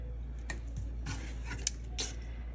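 Scissors snip through washi tape at a planner-decorating desk, a handful of crisp, close cuts spaced irregularly over a low steady hum, with no talking.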